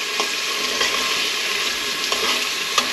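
Pulao with onions sizzles and fries steadily in a pan while a spoon stirs it, with soft periodic scraping taps over the constant crackle.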